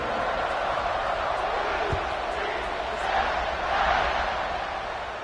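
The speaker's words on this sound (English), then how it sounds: "They're set to kick it off, and this crowd now ready to get behind them." Steady stadium crowd roar from an American football video game just before the kickoff, a broad continuous wash that swells slightly near the end, with a commentator talking over it.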